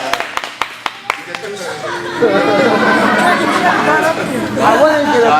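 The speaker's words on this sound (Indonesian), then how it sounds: "tepuk tangan yang meriah" A few sharp single claps are followed by a swelling round of audience applause at a camp session, with crowd chatter and voices mixed in under the clapping.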